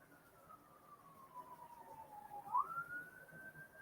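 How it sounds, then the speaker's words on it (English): A single faint, distant siren wails, its pitch sliding down slowly and then sweeping back up against quiet background. "I hear sirens."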